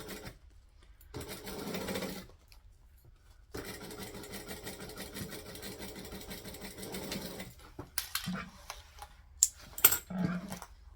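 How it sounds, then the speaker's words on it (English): A sewing machine stitches a fabric tag between lining layers, running in bursts with brief pauses, its motor whirring and needle tapping rapidly up close. "So I'm just going to pop that between the layers and then keep sewing like it was never there."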